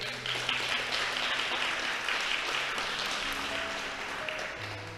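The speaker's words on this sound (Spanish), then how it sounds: "dale un fuerte aplauso al Señor" Congregation in a Spanish-speaking church applauding, a moderate, sustained wash of clapping with faint background tones and a murmur of voices beneath.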